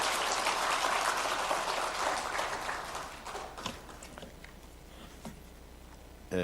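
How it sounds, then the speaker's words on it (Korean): A church congregation at a Sunday service applauds with dense clapping that peaks early and then fades to a few scattered claps. "박수해 주시겠습니다."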